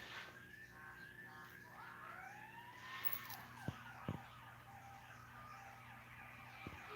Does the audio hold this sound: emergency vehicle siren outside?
yes